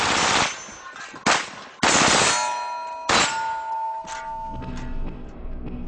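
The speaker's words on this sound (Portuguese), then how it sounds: "Veja só os tiros disparados em alvos de metal." An AR-15 rifle fires at metal steel targets, a handful of sharp cracks each followed by a ringing metallic clang and ding that decays, spaced irregularly with one quick pair.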